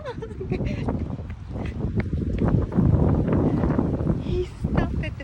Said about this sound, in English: The wind's so strong.